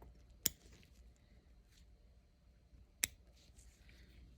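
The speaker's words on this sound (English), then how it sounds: "Using my iris scissors to cut off" Two sharp, crisp snips of iris scissors cutting suture, about two and a half seconds apart, close and quiet against a faint background hush.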